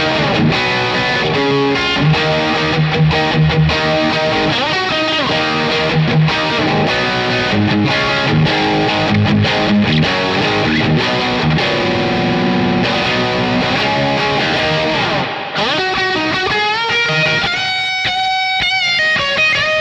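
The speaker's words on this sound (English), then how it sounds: "let's throw the booster on and then we'll hit the plate reverb" Electric guitar played through a Boss Katana Artist MKII amp head with a booster and plate reverb, loud and continuous distorted riffs and chords with sustained, reverberant tails.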